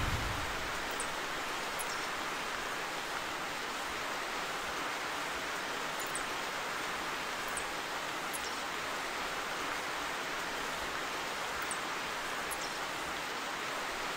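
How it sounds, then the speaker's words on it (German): Steady, even rain hiss in the hunting video game The Hunter 2015, a constant wash of noise with faint high chirps now and then, no speech. "Schön, wie der Scheiße so unbedingt regnen muss."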